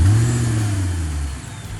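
A car engine catches and revs, a strong low growl that swells at first, holds steady, then tapers away near the end, heard close and on its own.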